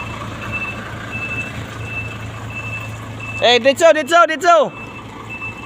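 A trailer truck backing up, its reversing alarm giving short regular beeps over a low idling engine, then a voice calls out briefly near the end.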